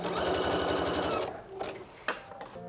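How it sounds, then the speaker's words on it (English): A sewing machine runs a short back stitch at the end of a seam while making a jumper, a steady fast whirring for over a second, then stopping with a few soft clicks and thumps. "Little back stitch at the end."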